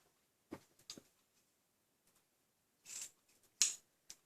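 Scissors cutting a length of wide ribbon, a handful of crisp, close snips spaced irregularly with quiet gaps between them.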